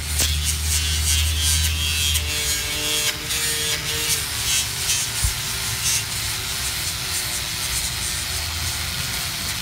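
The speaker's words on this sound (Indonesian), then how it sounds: "untuk alat yang kita gunakan di sini gerinda biasa, terus kita sambung dengan amplas" An ordinary angle grinder fitted with a sanding pad works over a resin table surface, a continuous loud abrasive whir and rasp that holds steady throughout, with a low motor hum underneath and no talking.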